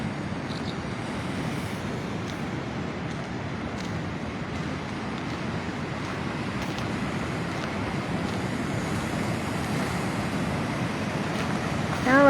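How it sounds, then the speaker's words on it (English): Ocean waves at a windy sea glass beach: a steady, dense roar of surf and wind rushing on without pause, filling the whole stretch with no voices. "Crazy waves."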